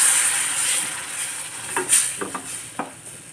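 Ground tomato paste goes into a pan of simmering bitter gourd kuzhambu (pavakkai karakulambu), sizzling and hissing with a few soft stirring knocks. The frying noise is steady and close, and no one speaks.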